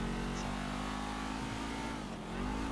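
A coupe in GTA drives with a loud, steady engine roar that swells slightly toward the end, heard alone without talk.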